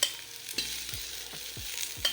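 Five or six garlic cloves fry in a pan for tomato pachadi, a soft sizzle under a regular series of spatula strokes scraping the pan, close and quiet, no talk.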